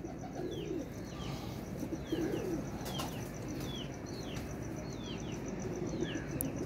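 Old flying pigeons coo in soft, repeated phrases against a steady, noisy background. A few faint chirps and swooping calls can be heard above the coos.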